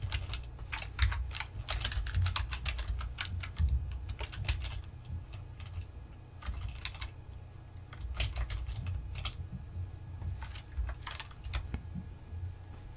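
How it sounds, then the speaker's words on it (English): Steady, close clicking of keys on a computer keyboard, typed in quick irregular runs with short pauses, with no voices. "type exactly the same thing, but with backslashes before you type in any double quotes."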